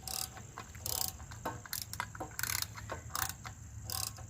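A ratchet wrench working a bolt loose on an 800 Suzuki Intruder motorcycle during a spark plug swap, giving rapid metallic clicking bursts in an uneven rhythm, close and moderately quiet with no talking.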